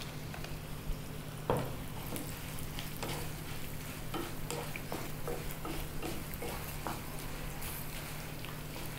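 Almonds and cashews fry in hot oil in a pan for curd rice, a steady sizzle with scattered stirring scrapes and light ticks running throughout at moderate level, no voices.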